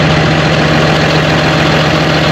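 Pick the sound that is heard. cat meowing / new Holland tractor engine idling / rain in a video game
new Holland tractor engine idling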